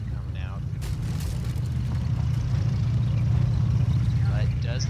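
A military truck in a video game rolls along with a steady, heavy low engine rumble, while faint voices break through briefly near the start and end.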